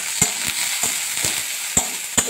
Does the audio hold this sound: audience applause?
no